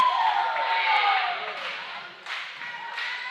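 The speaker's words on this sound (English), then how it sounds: "Crowd got excited about that one" A high school boys basketball crowd in a gym cheers and claps after a made three-pointer, a bright, sustained roar of voices with a whistle-like whoop, easing slightly and then swelling again.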